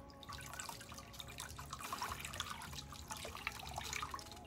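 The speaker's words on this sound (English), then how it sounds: "I am also going to squeeze out the yarn." Water drips and trickles from dyed yarn being squeezed out, a fairly steady patter of small splashes with some faint low background hum, no talking.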